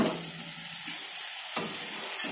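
Egg fries in a pan with a steady hissing sizzle, joined by a couple of sharp louder scrapes from stirring.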